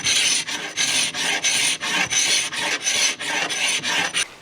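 Hand scraping and sanding on worn-out wooden furniture, a steady run of close, raspy strokes in a regular back-and-forth rhythm with brief pauses between passes, no voices.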